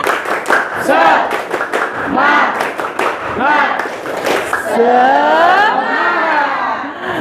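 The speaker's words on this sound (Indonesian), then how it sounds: "Ayo biasa dong kita tepuk semangat dulu ya" Young pupils and their teacher in a classroom do a patterned rhythmic clapping chant, tepuk semangat, with bursts of claps mixed with loud chanting voices, ending in sustained excited shouting.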